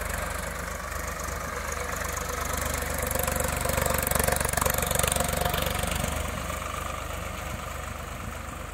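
A Swaraj 855 4x4 tractor, 2024 model, pulls a 13-tine cultivator with a loud, steady diesel engine drone and rattling vibration, swelling slightly midway and running continuously for nearly nine seconds.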